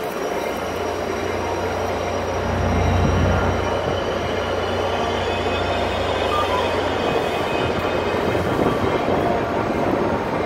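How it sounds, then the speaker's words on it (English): A Caltrain commuter train rumbles past at close range, a deep steady roar with a louder swell in the middle, then rolling on with faint squeal of wheels on rails. "There's the train."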